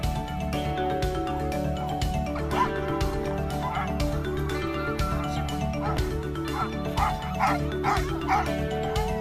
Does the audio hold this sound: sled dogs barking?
yes